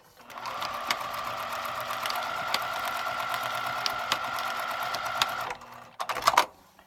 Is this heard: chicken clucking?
no